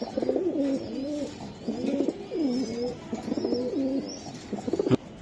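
Pigeons coo close by in repeated low, throaty, rolling phrases, with faint chirps in the background, among Budapest and racer pigeons.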